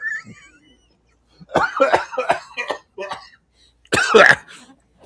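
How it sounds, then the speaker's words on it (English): Several harsh, close coughs come in bursts, with a short pause between groups, the last burst loudest. "The coughing adds to the performance."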